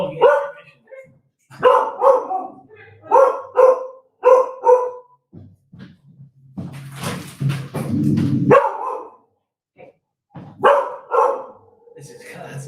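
A dog barks in short, loud bursts nearby, then growls and whimpers before barking again, with people talking around it at a wine tasting at home.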